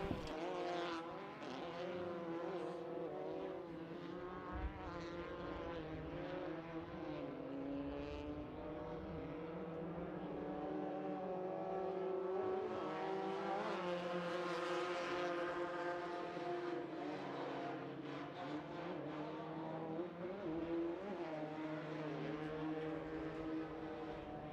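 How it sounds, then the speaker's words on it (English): Desert buggy race cars roar around a short course dirt track, engines droning and revving continuously at middle distance with shifting pitch as they pass. "So it's Kevin Streety, our first car in the Desert Buggy to cross the line."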